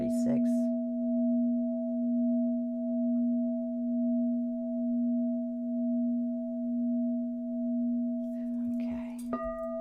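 A singing bowl for the crown, tuned to the 936 solfeggio tone, rings as a steady pure hum with a slow gentle wobble, sustained for several seconds before a brief clatter near the end.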